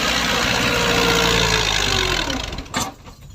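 A New Holland 640 tractor engine in a field runs with a loud, low rumbling drone, then cuts off near the end, leaving a brief clatter and quieter background.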